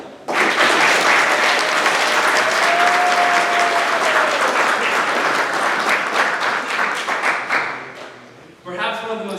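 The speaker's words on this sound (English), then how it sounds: "So a round of applause for them." A graduation audience breaks into loud, sustained applause filling a hall, dense clapping holding steady for about eight seconds before fading, then a voice begins speaking near the end.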